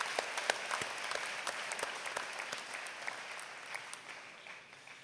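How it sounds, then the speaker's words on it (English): Graduates clapping for faculty and parents at a spring graduation ceremony, distinct individual claps in a fairly sparse, distant round of applause that gradually thins and fades out. "I would just like all the graduates to join me in another quick round of applause for the faculty"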